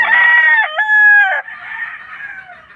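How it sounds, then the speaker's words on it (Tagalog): A gamefowl brood stag rooster on a game farm gives one loud, close crow with a rising, wavering call that trails off in a fading tail. "Ito yung brood stag po natin."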